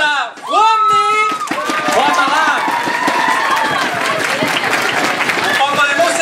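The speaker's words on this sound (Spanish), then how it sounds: "Un fuerte aplauso para Juanmi." Audience applause at a TMDay event in Mallorca, a loud wash of clapping and crowd noise following a voice, with sustained tonal sounds over it.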